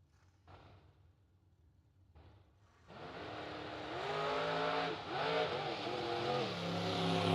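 A drag racing dragster launches down the strip: after a few faint thumps a loud engine roar swells suddenly, then holds and climbs as the car accelerates, with no one speaking.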